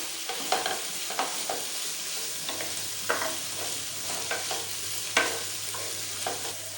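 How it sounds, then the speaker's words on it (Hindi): Fish sizzles in a pan for a Sindhi fish recipe, a steady frying hiss broken by repeated clinks and scrapes of a utensil stirring, close and clear with no voices. "अब हम इसको पकाएंगे थोड़ी देर के लिए, 2-3 मिनट के लिए हम इसको पकाएंगे फ़िश को।"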